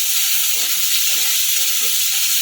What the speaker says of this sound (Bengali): গাজরটাকে একটু হালকা করে নেড়ে নিয়েছি আর দিয়ে দিলাম দুটো চিড়ে দেখা কাঁচা লঙ্কা